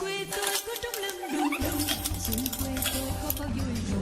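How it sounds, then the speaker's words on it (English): Whole spices for Vietnamese pho toasting in a pan on a gas stove, with crackling, light scraping and stirring clatter up close, a low hum underneath. "And I'm already hearing the popping."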